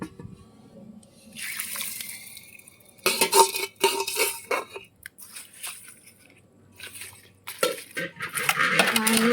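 Mango pickle being stirred with cooled oil in a pot, with scraping, clinking and wet sloshing in uneven bursts, close and fairly loud, no voices.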